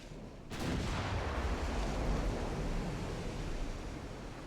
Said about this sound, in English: They're firing HE at that thing for some reason.